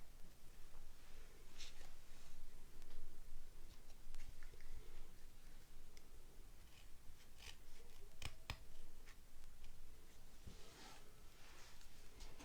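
Scissors snip through folded paper to cut out a small V shape for milk can Christmas ornaments, a steady run of close, crisp cuts and rustles with no talking.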